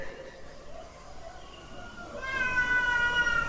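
A cat meows faintly in the background of an Islamic economics lecture, with a thin drawn-out meow rising near the end over soft room noise.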